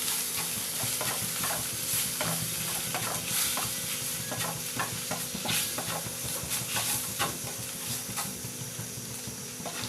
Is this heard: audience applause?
no